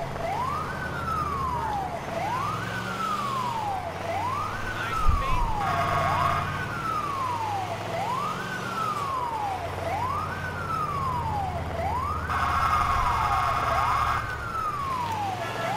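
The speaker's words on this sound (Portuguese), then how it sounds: "A ambulância." Ambulance siren in GTA IV, a steady rising-and-falling wail repeating about every one and a half seconds, loud and continuous over faint engine and traffic rumble, with a brief thump midway.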